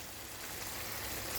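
Broken-up sausage sizzles in a pan on high heat, a steady dense crackling hiss that carries on briefly and evenly with no talk.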